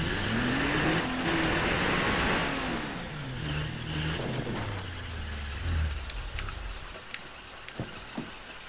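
A car engine in State of Decay 2 revs and drives, with a rising and falling motor hum up close that fades out, followed by a few faint clicks.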